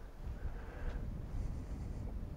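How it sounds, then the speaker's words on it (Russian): Strong gusty wind buffets an external microphone on an Eken H9 action camera outdoors in grassy terrain, a steady low rumbling roar with swelling gusts throughout. "Идет ветер сильный, как вы видите."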